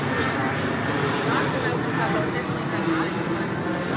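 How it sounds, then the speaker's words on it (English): A low, steady roar of an airplane passing overhead close to an airport runway beside a greyhound racing track, broadband and constant throughout, with faint background voices. "Plane just flying over, flying out or flying in."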